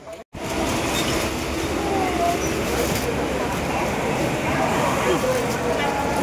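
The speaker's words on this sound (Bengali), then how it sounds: "ট্রেন পেয়ে চলে এসছে, ওই জায়গায় আছে ট্রেন আসছে।" A train pulls into a railway station near Sealdah, with a loud, steady rolling rumble and faint wheel squeal after a brief cut at the start, and voices murmuring in the background.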